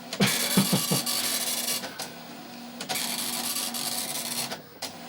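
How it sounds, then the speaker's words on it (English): Loud, rapid mechanical buzzing of an Amstrad PCW 8256 dot matrix printer, running in long continuous bursts with brief pauses between lines. "now we can listen to the lovely sound of a dot matrix printer"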